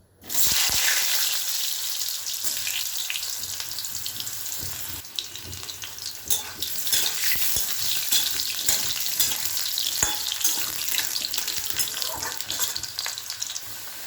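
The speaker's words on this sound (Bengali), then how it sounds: "আমার তেল গরম হয়ে গেছে। আলুগুলো ভালো করে ভেজে নেবো, লাল লাল করে আলুগুলো ভেজে নেবো।" Potatoes fry in hot oil, browning to a deep red, producing a loud, continuous hissing sizzle close by with intermittent clicks and scrapes, no voices.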